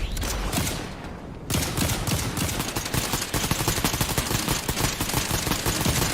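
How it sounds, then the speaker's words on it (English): Dense bursts of automatic gunfire rake trees on a mountainside during a Fortnite regional match, rapid overlapping shots coming loud and close after a brief quieter opening. "They're just shooting at the trees here to deny any cover to anyone trying to get up to them through that mountainside"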